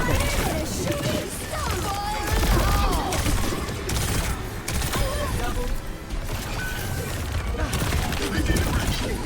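Dense, rapid gunfire and crashing impacts fill an Overwatch 2 match with the hero Juno, loud and continuous, with a voice speaking over the battle.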